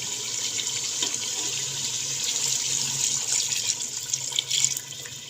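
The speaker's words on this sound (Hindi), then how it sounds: "तो अब इसके अंदर हम पानी डालते हैं।" Water poured steadily into a pot of browned spices for chicken shorba, a continuous splashing hiss that runs evenly and close by, briefly burbling louder near the end.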